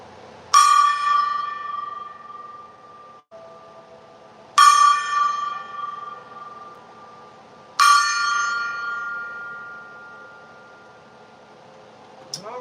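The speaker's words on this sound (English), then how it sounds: "Couple of hits from the gong." A metal gong struck three times, spaced several seconds apart to clear the energy during a zodiac reading, each bright shimmering hit ringing out and slowly decaying, heard alone with no talk.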